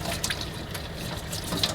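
Fresh oysters are scrubbed with a vegetable brush under a running kitchen tap, a steady close splash of water with faint scratchy brushing.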